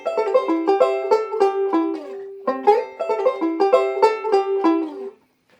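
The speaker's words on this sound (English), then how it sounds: "a really cool classic Scruggs riff that really works great as a fill as well" Plucked banjo playing a Scruggs-style vamping backup riff, bright rolling notes in quick steady bursts with a brief pause midway, close and alone with no talk.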